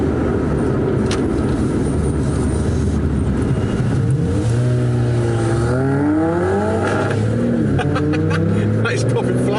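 A car revving in an open car park at a supercar meet, its exhaust popping as the engine climbs and falls in pitch, loud and close, with people talking over it.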